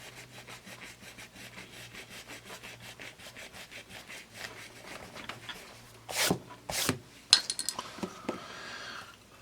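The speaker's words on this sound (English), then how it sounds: "Try this foam eraser." A foam eraser rubbing over HB and 2B graphite pencil marks on paper gives a close, steady run of quick scrubbing strokes, ending in a few louder handling clatters and scrapes.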